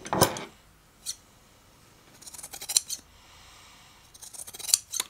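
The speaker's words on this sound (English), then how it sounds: "And also cutting tests of fiberglass carbon fiber weave." Robuso scissors cutting fiberglass and carbon fiber weave fabric, giving a few separate crisp snips spread apart, the last ones coming as a short rapid cluster, close and fairly quiet.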